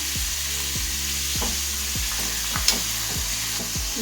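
Onions sauté in a pan for a jackfruit seed gravy, a steady, even sizzle held close and fairly loud, with several regular clinks and scrapes of a spoon stirring and one brief sharper crackle, no speech.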